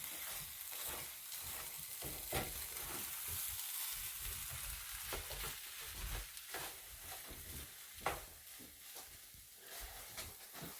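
Eggs cook in a pan for a breakfast dish, giving a steady close sizzle with soft stirring and scraping of the spatula throughout, and no talking.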